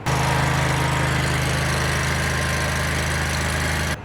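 A small portable generator engine runs steadily at a constant idle with a low droning hum and rattle, close by, then cuts off abruptly at the end.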